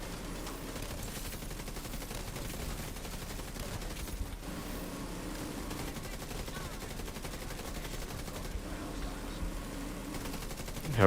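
Gatling gun fire in The Division 2, a continuous rapid rattle of rounds blending with other game gunfire and combat noise, sustained and steady throughout.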